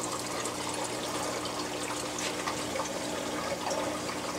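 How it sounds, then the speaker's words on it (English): Water in an aquarium churned by a WP40 wave maker with a voltage regulator, splashing and rippling in a steady, close, bubbling wash with no pauses. "It's kind of ends up splashing out because it's rippling so much."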